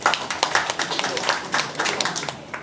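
Audience at a general meeting clapping, with distinct hand claps in an uneven rhythm, fairly close and moderately loud, with no talk over them.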